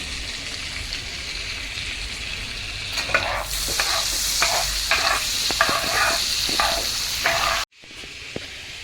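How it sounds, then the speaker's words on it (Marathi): Butter sizzles loudly in a hot pan, a dense frying hiss that swells midway with rhythmic scraping stirs, then cuts abruptly and returns quieter near the end, close by with no voices. "वरती पॅन मध्ये बटर टाकलंय."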